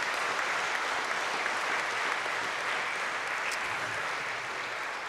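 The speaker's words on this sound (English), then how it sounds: "let's give our panel a wonderful round of applause" An audience at a National Town Hall applauds a panel, a dense, steady wash of clapping from many hands that stays loud and even throughout, without voices on top.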